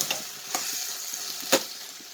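Small onions and fenugreek sautéing in sesame oil for a Tamil kuzhambu, a soft steady sizzle broken by a few sharp scraping stirs of the spoon against the pan.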